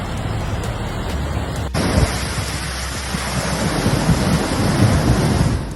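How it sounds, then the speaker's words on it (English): Raging floodwaters pour and crash over the Nolichucky Dam in a dense, continuous roar, loud and constant, with a sudden cut to a slightly different surge partway through and no voices. "Raging waves crashed over the Nolichucky Dam as downstream residents held their breath while nature showed its wrath."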